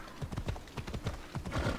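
Horse hooves clip-clop in a steady, quick trotting rhythm in the Assassin's Creed Odyssey video game, loud and close, with a faint whinny-like tone and no talking.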